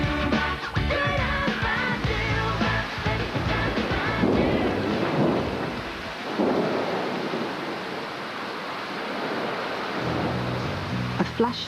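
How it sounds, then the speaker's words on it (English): A sudden flash thunderstorm at Menorca airport brings heavy rumbling thunder and a dense wash of rain, loud and close at first and then easing into a steady roar. "A flash storm has hit Menorca airport"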